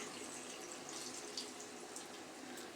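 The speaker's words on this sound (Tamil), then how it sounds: "தேவையான அளவு தண்ணியை ஊற்றி ஃபஸ்ட்டு நம்ம நல்லா வேக வச்சிடலாம்" Steady rush of water pouring from a tap into a cooking pot for mango jam, a continuous broadband splash with no talking.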